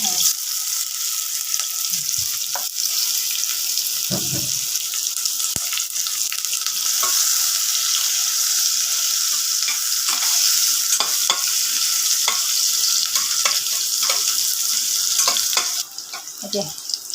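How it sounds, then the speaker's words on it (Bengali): Onions fry and sizzle in hot oil in a pot, a steady broadband hiss running throughout, while a utensil stirs with scraping clatters at intervals; a faint bit of speech appears briefly. "হ্যাঁ, তেল পেঁয়াজগুলি ভাজা করতেছি।"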